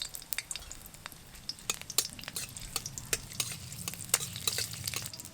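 Nigella seeds and four slit green chillies fry in mustard oil in a kadai, crackling and spitting in sharp, irregular pops over a soft sizzle, close up with no voices.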